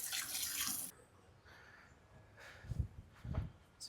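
Water drains from a self-watering plant pot, a trickling splash that comes in bursts, quiet and close, between pauses of near silence.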